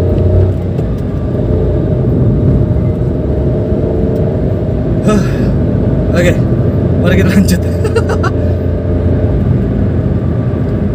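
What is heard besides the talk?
Nissan March 1.2 L manual 2014 car driving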